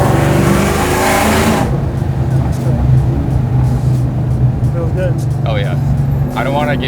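A 1000hp Whipple-supercharged Terminator Cobra rumbles loudly and revs up briefly at the start, then settles into a deep, steady idle while people talk over it.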